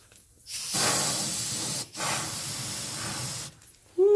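A compressed-air blow nozzle blasts onto charcoal coals in a smoker, giving two loud, steady hissing bursts close up with a short break between them.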